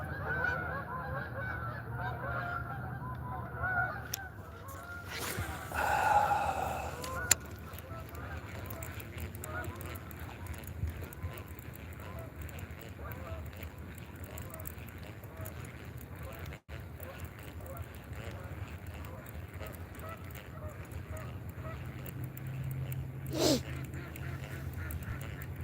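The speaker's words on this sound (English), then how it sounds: "Damn waterfowl. My worst enemy right there. Geese." Geese honk in a noisy outdoor setting: a burst of calls around the fifth to seventh seconds and another brief one near the end, over a steady low rumble and some talk.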